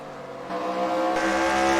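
Race cars in a Bullring Racing Series event at Spencer Speedway roar down the front stretch toward turns one and two. The loud, close engine drone swells and builds as the cars pass.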